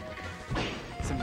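Down smash attacks landing in Super Smash Bros. Melee during a Captain Falcon versus Peach match, two sharp crashing impacts in quick succession, loud against the game's background.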